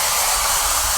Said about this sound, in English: we have a student here using a single switch to activate a blow dryer